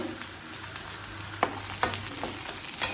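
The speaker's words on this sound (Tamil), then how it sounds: "லேசாக வதக்கினா போதுங்க. இந்த அளவுக்கு வதக்கினா போதும்." Shallots and garlic sauté in a pan for coconut chutney, with a constant close sizzle and several sharp clicks as a spoon stirs against the pan.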